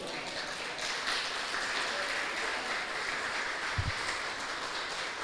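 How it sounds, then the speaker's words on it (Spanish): Congregation applauding during a Spanish-language church service, a steady dense wash of many hands clapping throughout, with no clear individual claps standing out. "Démosle un aplauso al Señor."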